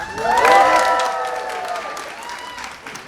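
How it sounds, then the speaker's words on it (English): An audience at a Countryside School stage show of "Imagine a Dragon" bursts into loud cheering and applause with high voices, peaking early and then settling into steady clapping and whoops. "So give a cheer if you're related to somebody up here."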